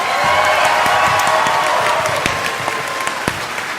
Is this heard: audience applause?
yes